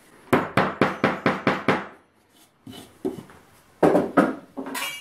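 A hammer drives a fastener and a plug into wood, starting with six quick even blows in a steady rhythm, a short pause, then several more sharp strikes, close and loud.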